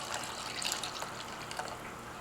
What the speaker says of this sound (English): To that, I'm adding a 1/4 cup of oil, a teaspoon of vinegar, and a cup of water,